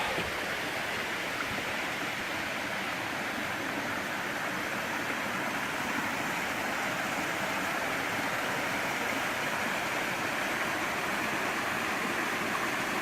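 Constant rushing water from the upper, lower-flow section of a travertine waterfall in Falls Ridge Preserve, Virginia, a broad steady roar with no breaks, moderately loud and unchanging.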